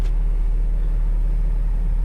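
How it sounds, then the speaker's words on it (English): A 2010 VW CC R-Line TSI with a faulty PCV valve is driven slowly into a garage, a steady low engine rumble and hum heard from inside the car, constant and fairly loud. "I'm in the car to pull it into the garage"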